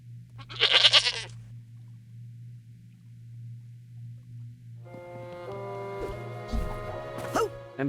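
A goat in the video game Psychonauts 2 lets out a short, bright bleat over a steady low hum. Layered game music and tones follow it.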